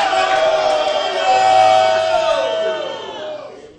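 A church congregation shouts hallelujah together at a bishop's service, a loud sustained mass of voices that swells and then slowly fades.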